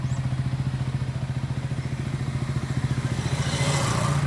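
Several motorcycles idle together at kilometer 0 on Sibuyan island in the Philippines, with a steady, loud, close engine rumble that pulses rhythmically throughout and rises slightly near the end.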